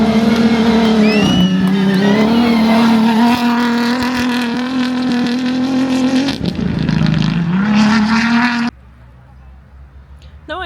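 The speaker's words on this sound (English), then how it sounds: "Let's see what those cars do around here." Rally-Raid Portugal cars pass close by, with loud engine roar rising and falling as they rev and shift through the corner, then the noise cuts off sharply near the end.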